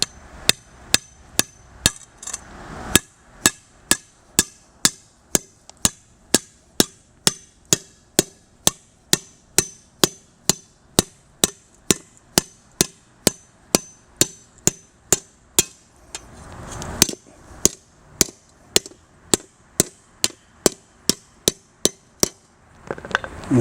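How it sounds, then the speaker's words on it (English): A heavy hammer pounds metal flat while a lobster tickle stick is being made, striking about twice a second in a steady, loud, ringing rhythm for the whole stretch, with no talking. "we're going to flatten it with a heavy hammer to about that"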